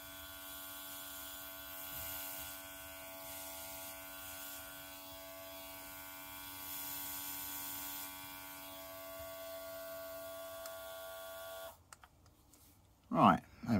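An airbrush laying down a quick coat of dark green paint gives a steady hiss mixed with a tonal mechanical hum that runs for about twelve seconds, then stops and someone speaks.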